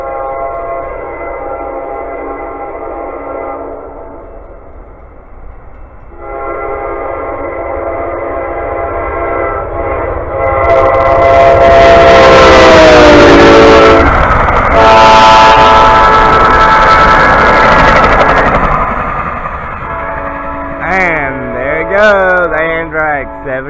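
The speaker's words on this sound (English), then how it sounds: "Amtrak 79 southbound by Metro." Amtrak train number 79 heading southbound past a railfan spot: a loud, sustained horn blast with the roar of the passing train building to a peak midway, then rumbling wheels and squealing metal as the cars pass close by.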